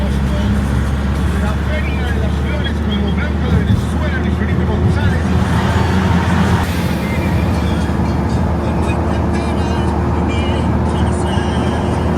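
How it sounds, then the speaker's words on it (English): Passenger van cruising on the highway out of Medellin toward Santa Fe de Antioquia, a steady rumbling road and engine noise under continuous talking, with brief rattles and wind bursts. "We're just getting on the highway, which will take us directly to Santa Fe de Antioquia."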